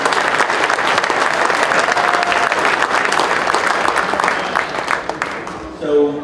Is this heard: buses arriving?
no